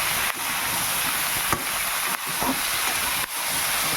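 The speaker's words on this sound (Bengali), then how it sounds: "ঢ্যাঁড়স সব একসঙ্গে ভেজে নিচ্ছি" Okra and pumpkin fry together in a pan, giving a steady, close broadband hiss that holds without pause, with a few faint soft knocks and dips along the way.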